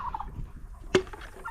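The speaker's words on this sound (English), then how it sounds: "All the birds are not coming up, but I've got some feed for them." Turkeys gobbling as a flock comes up to be fed, one loud close gobble standing out over softer calls and rustling around it.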